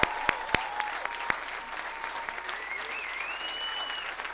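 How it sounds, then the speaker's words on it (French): Audience at a gospel praise concert in a church applauding and cheering, sustained dense clapping with sharp individual claps up front and whistles or shouts rising over the crowd. "Moi, je trouve qu'il mérite plus d'acclamation que ça"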